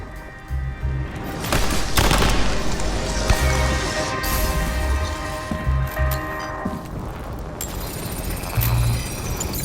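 Gunfire during a bar shootout in the video game Nobody Wants to Die, a loud, dense burst of repeated shots and crashes that comes in clustered volleys.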